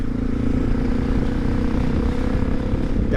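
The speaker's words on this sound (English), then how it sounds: "that FMF pipe is loud" A 1999 Suzuki DR650 motorcycle with a loud FMF exhaust pipe rumbles steadily and close at constant revs throughout, with no talk.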